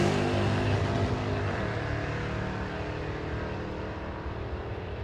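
A Camaro and a Corvette drag racing at Hot Rod Drag Week, heard as a loud, steady engine roar close by that slowly fades as the cars pull away down the strip.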